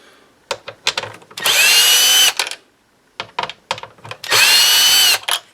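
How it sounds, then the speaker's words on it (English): Power drill backing out radio screws in a 2005 Toyota Highlander dashboard: two loud, sustained whirring bursts close by, each set between clicks and short rattling taps of the tool being positioned. "So I'll have to get these two screws out of here, okay?"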